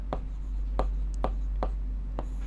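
A pen writes maths equations on a board in a quiet classroom, five short evenly spaced scratchy strokes over a low steady hum, with no talking.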